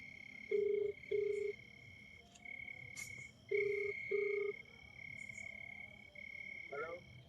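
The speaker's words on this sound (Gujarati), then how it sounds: "ડુંગરજી ના ભોણા ફોન કરશે હવે" A telephone ringing tone on a call repeats in paired short beeps, twice over, with a thin steady high whine and scattered chirps running underneath throughout.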